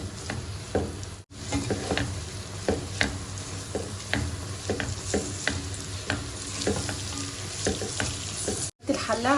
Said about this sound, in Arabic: دلوقتي بقى هنقلب البصل دوت لحد ما يدبل معانا